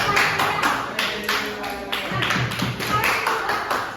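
A classroom full of people claps steadily, a dense patter of hands that keeps going for several seconds.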